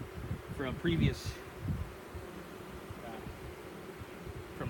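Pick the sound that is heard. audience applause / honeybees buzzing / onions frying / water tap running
honeybees buzzing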